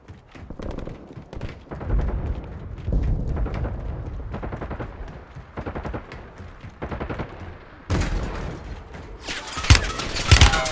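Rapid automatic gunfire from M4 and Kilo141 rifles in the Warzone battle royale game crackles in repeated bursts, with heavier, louder blasts and thuds near the end.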